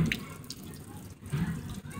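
Water at Blue Springs splashes and trickles close by, a steady, moderately quiet watery wash with small shifting surges.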